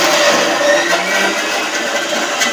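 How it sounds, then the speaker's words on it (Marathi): A kitchen mixer grinder runs steadily on its first speed setting, grinding a puran filling of sweet lentil paste, a loud continuous whirring motor hum close by for the whole stretch. "आता आपण मिक्सरला वाटूया आता मिक्सरच्या पहिल्या बटनावरच हे आपल्याला वाटून घ्यायचं आहे"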